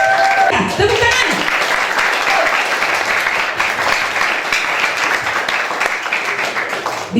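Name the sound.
audience applause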